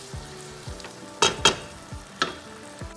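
Chopped tomatoes frying in a pan for sambal goreng, a steady low sizzle with a few sharp bursts of spattering or stirring, close and alone with no talk.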